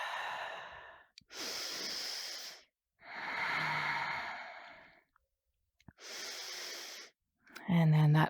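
Slow, deep yoga breaths held in a pose, three long breathy inhales and exhales with silent pauses between them, close and clear, followed by a brief voiced sound at the end.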